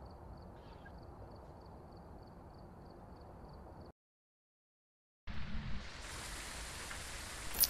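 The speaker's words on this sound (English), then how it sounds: "Great, it's raining." Steady, soft rain patters in the ghost-hunting game Phasmophobia, cutting out to total silence for over a second before returning brighter and hissier, with no talk over it.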